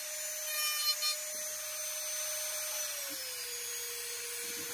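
A Dremel micro carver power-carves wood with a steady high-pitched whine that holds even, then drops slightly in pitch as the tool slows, with faint grinding contact against the wood. Close and continuous, with no speech.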